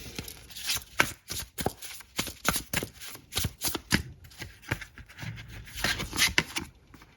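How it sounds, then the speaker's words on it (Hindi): Tarot cards are shuffled and drawn by hand, making a close, quick series of crisp flicks, slaps and riffles in an uneven rhythm throughout. "कुछ कार्ड्स मैं यहीं से और निकालूंगी"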